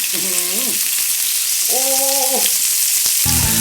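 Beef broth for a Thai-style jaew hon hotpot bubbling and sizzling hard in a pot, a loud, steady hiss right up close, with brief bursts of talk coming through over it.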